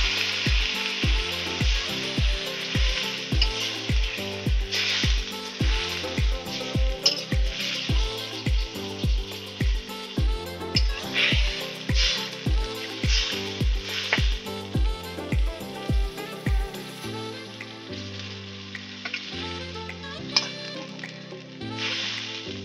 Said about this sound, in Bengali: জলটা দিয়ে দিচ্ছি,